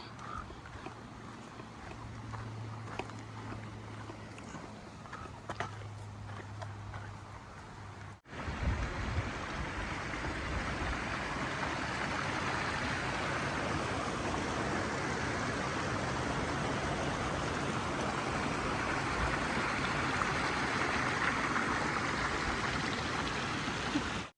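A stream at a water source on the Pacific Crest Trail roars loudly and steadily, a dense continuous rush that swells abruptly after a quieter opening stretch.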